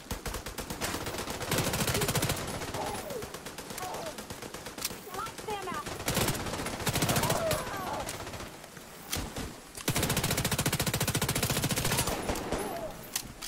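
MPX submachine gun in The Division 2, fired in several long automatic bursts at close range, rapid rattling shots separated by short pauses, with voices talking over the gunfire.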